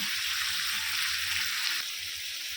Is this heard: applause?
no